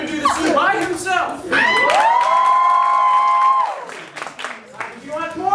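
Improv show audience at Greenhill claps and cheers to vote, bursts of cheering and whoops from a mixed crowd including children, loud and close, with a host speaking over parts of it.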